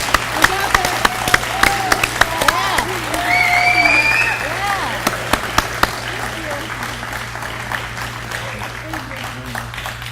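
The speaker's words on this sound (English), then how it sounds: "we'd like to give them an applause, please." An audience at an arts festival claps and cheers for students gathered on stage. Scattered claps and cheerful voices rise and fall for about ten seconds over a steady low hum, with sharper individual claps standing out toward the end.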